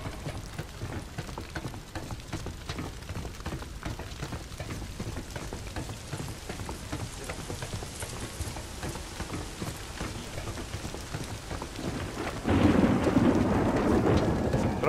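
A thunderstorm in the Days Gone video game brings steady heavy rain with low thunder rumbling under it, then a loud surge of downpour and thunder near the end.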